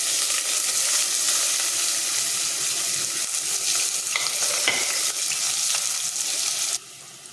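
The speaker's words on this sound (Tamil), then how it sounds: "வெங்காயம் நல்லா வதங்கட்டும்" Steady crackling sizzle of small shallots frying in hot oil with curry leaves for Chettinad country chicken curry, with occasional scraping as they're stirred; continuous and close, cutting off abruptly near the end.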